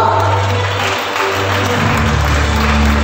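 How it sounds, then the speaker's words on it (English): An audience claps steadily for prize winners at a primary and kindergarten school annual day, a fairly loud continuous patter over a steady hum of the hall's sound system. "Dear audience, please cheer our prize winners"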